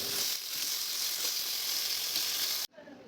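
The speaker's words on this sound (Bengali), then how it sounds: "মাছটা ভাজার জন্য এখানে আমি সর্ষের তেল দিয়ে দিলাম। তেলটা দেখো ভালো মতন গরম হয়েছে।" Pomfret fish sizzles in hot mustard oil, a loud, continuous close frying hiss that cuts off abruptly near the end, leaving a brief quieter tail.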